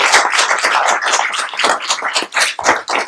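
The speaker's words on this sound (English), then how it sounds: "So let's give our speakers another big round of applause." An audience applauds the speakers at an alumni panel, a dense, loud round of clapping that continues throughout.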